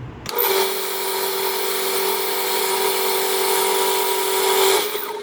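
A commercial knife sharpening machine switches on and runs at a steady, loud whine with a strong sustained tone for about four seconds, then spins down; no talking.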